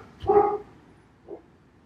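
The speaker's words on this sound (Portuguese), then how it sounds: "Minha cachorrinha que está querendo dar um palpite." A small pet dog gives one clear, fairly close bark, followed a moment later by a fainter short yip, with no talking over it.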